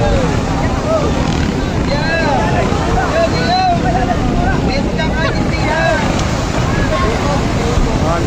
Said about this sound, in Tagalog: Ang bangka.